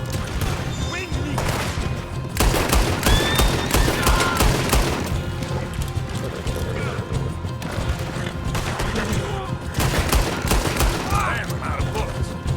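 Gunfire in Red Dead Redemption II comes as bursts of rapid, sharp shots and volleys in a loud shootout, with voices speaking between and over the firing.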